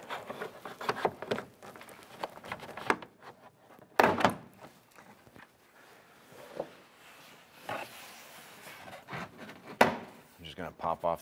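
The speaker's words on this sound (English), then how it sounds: "You can use your trim tool, get behind the edge of the door, working your way around." Repeated plastic clicks and scraping snaps as a trim tool pries a front driver door panel loose on a 2001-2005 Honda Civic, bursts of taps and creaks scattered across the clip, fairly close.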